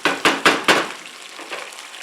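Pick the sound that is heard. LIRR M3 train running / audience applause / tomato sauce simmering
tomato sauce simmering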